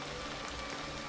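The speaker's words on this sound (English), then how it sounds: "It's raining now." Steady rain falls in the video game The Quarry, a dense, even hiss of drops pattering on surfaces that holds constant through the whole short moment, with no voices over it.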